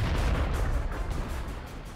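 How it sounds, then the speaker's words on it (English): Tank cannon fire in a World War II armored combat video game with KV-1 and Churchill tanks, a heavy booming shot that rumbles low and decays over about two seconds, with no voices over it. "I got some KV-1s lining up, taking shots at me now."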